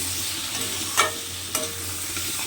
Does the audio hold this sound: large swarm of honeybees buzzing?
no